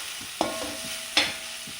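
Carrot and beetroot stir-fry being stirred in a pan, two distinct scrapes of a spatula over a faint sizzle, close and brief.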